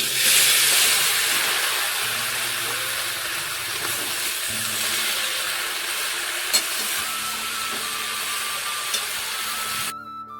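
Pumpkin stems, potato and greens sizzle in hot oil seasoned with turmeric, a steady bright hiss with occasional crackles, close and continuous, cutting off abruptly at the end.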